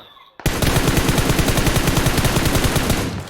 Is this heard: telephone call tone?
no